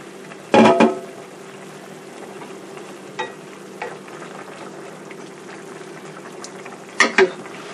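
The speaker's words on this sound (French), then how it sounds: "Laissez bouillir votre eau." Water boils in a covered pot while Cameroonian white peanut sauce with mushrooms is being cooked, giving a steady, soft bubbling hiss. A few sharp lid or utensil clatters break in near the start and again near the end. Nobody speaks.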